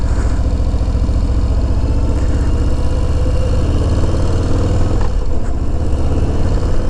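A Harley-Davidson Low Rider S motorcycle engine runs loud and close in a continuous deep, throbbing rumble that holds steady throughout with no speech.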